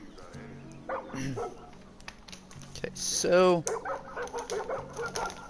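A dog barks in the video game Far Cry New Dawn, a short burst of barks standing out midway among game sounds, with someone talking over it.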